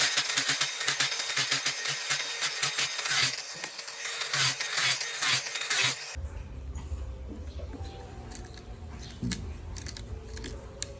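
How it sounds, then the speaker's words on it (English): Grinding into a wooden dowel with a powered tool, a harsh rasping, rubbing sound in repeated bursts for about six seconds before dropping to quieter intermittent scraping and low hum. "Begin grinding into the wooden dowel."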